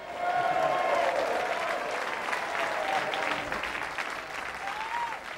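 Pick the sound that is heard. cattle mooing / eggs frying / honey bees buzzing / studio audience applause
studio audience applause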